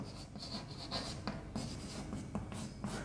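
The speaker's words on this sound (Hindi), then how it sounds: "तो मैं यहां पे लिख देता हूं" Marker or chalk scratching across a classroom board during a science lesson, steady close rubbing strokes with brief taps between letters and no voice over it.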